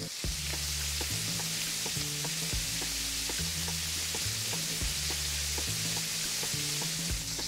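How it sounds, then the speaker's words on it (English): Steak searing in a hot pan, a loud continuous sizzle and crackle with a steady hiss and no voices over it. "You need to hear that sizzling. If it doesn't sizzle, it's not hot enough."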